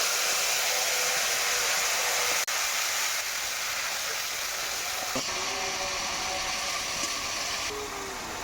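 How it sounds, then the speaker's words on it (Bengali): Spice paste for aloo dum hits hot oil and sugar in a pan, setting off a loud, sustained sizzling hiss that carries on steadily throughout with no talking. "এবার দিয়ে দেবো আমার সেই বেটে রাখা মশলা।"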